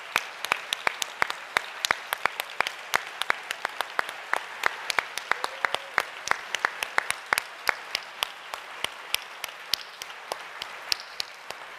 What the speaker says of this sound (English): Could you please stand so we can give you a round of applause?